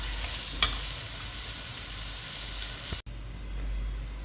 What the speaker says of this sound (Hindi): आपने प्याज नहीं ज़्यादा फ्राई कर देने हैं